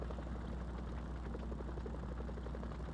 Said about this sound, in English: Chopper's making weird noises like it's gonna fall apart.